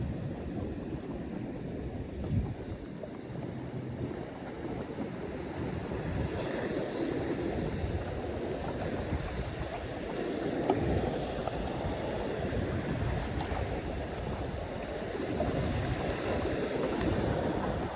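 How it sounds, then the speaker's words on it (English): Carolina Skiff J16 boat rocking and slapping through swells left by a big passing yacht near a jetty, a steady broadband wash of water and hull noise with wind buffeting the microphone, no talking. "Taking on a bunch of swells from like a big yacht that just went by."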